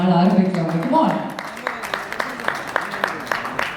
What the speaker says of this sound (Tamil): ஒரு நல்ல ஜோரான கைத்தட்டலோட இந்த நாள் ஆரம்பிக்கலாம்.